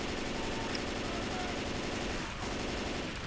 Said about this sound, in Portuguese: Deu um zilhão de tiro na mulher.